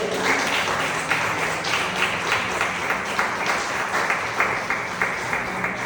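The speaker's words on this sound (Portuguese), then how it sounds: "Você pode aplaudir o nome do Senhor?" A church congregation applauding during a sermon, steady continuous clapping from many people, even in level and moderately loud throughout.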